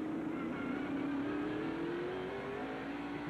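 Stock cars in the 1993 Save Mart Supermarkets 300k, including Wally Dallenbach's Keystone Ford, drive through turn 11 on a road course. The engines drone loudly and steadily, and their pitch rises gradually as they accelerate.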